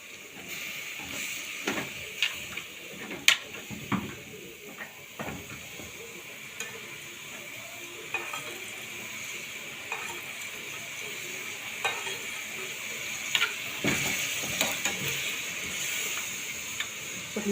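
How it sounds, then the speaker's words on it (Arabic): Chicken sautéing in a pan for shawarma-filled crepes, a steady broadband sizzle with repeated scraping stirs and clicks of utensil on the pan, close and moderately loud without talk. "نشوح بس كده الفراخ بتاعتنا الاول"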